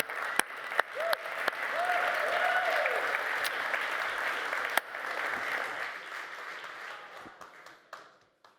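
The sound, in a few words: audience applause at a conference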